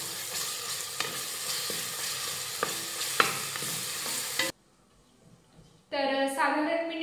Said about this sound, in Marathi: यामध्ये घालूयात 1 मोठा चमचा आलं लसूण पेस्ट आणि हिरव्या मिरच्या आणि मिनिटभरासाठी हे छान असं परतून घेऊयात